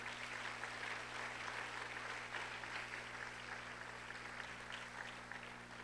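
Church congregation giving a steady, sustained round of applause at a sermon on anti-Christian philosophies, dense clapping filling the room at moderate level with a constant low hum beneath.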